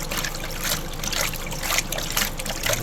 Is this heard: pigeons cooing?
no